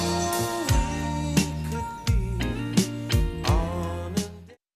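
A short excerpt of a 1981 song plays, with full band music, rhythmic accents and a sustained melodic line, ending abruptly in silence.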